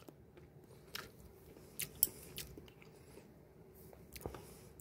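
Quiet, close-up bites and chewing of fried egg and kimchi, with soft squishy and crunchy mouth sounds coming in a few separate bursts.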